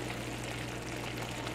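A small splash of water poured into a hot pan of leftover breakfast with tomato and onion, a steady close hiss and sizzle with no talking.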